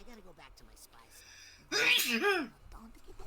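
A single sharp sneeze bursts out loudly in the middle, set between stretches of someone talking casually during a Psychonauts 2 gaming session.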